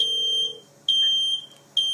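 Smoke alarm ringing at home and relayed through a phone call via the FirstFireAlert app: three sharp, loud, high-pitched beeps in an even repeating pattern, alone.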